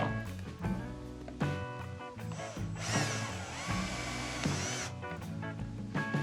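A power drill whines in several bursts, drilling out the rivets of a Yamaha YZ 125/250 motorcycle silencer, grinding through metal with brief pauses between each run.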